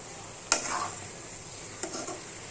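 Chicken fries in a pan and is stirred twice, each a short scraping stroke, over a low, steady sizzle close by, with no voices.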